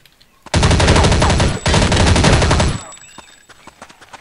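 An SMG firing in the video game Counter-Strike: Condition Zero, a loud close sustained burst of rapid shots lasting about two seconds with a brief hitch, then tapering into faint clicks and clatter.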